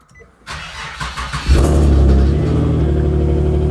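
An Infiniti G37 engine starting after faint clicks, then catching with a loud rumbling rise and settling into a steady, close idle as it runs to warm the oil.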